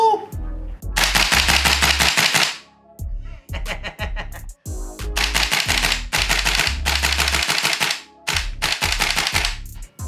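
A VFC PSG-1 gas-powered airsoft rifle fires semi-auto, loud sharp cracking shots in quick bursts and separate clusters with brief pauses between groups, close to the microphone.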